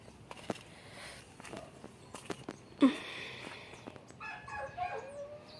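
Close, sharp barks from a dog shut in near a garden greenhouse ring out in a few separate bursts, with light footsteps and faint birdsong in the background.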